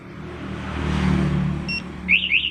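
A Yamaha NMAX scooter being started with a smart key alarm fitted: a rising engine whir with a short electronic beep partway through, then two quick chirps of the alarm near the end, loud and close.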